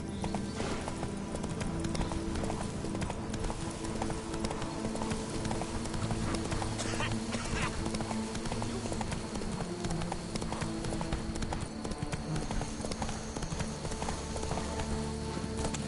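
A horse gallops in The Witcher 3: Blood and Wine, its hooves keeping a steady, fast clip-clop that is loud and close throughout, layered over constant game ambience and without speech.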